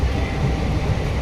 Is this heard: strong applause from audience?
no